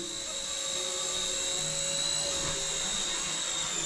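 A Nano RC helicopter's rotor whirs up to speed indoors in a narrow hallway, a close, steady high-pitched buzz with a sustained whine that holds at constant loudness throughout.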